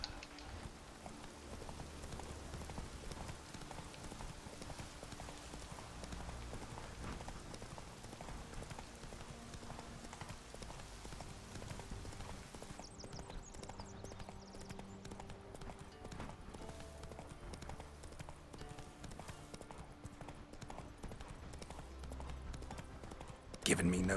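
Steady clip-clop of Roach the horse's hoofbeats in The Witcher 3, a continuous galloping rhythm running throughout, up close, with game music and ambient sound underneath.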